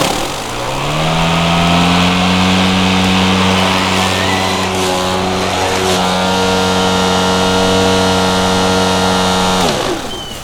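EGO LM2102SP electric self-propelled lawn mower running steadily, a loud continuous motor hum with a constant whine that holds for about ten seconds before winding down, with no voices.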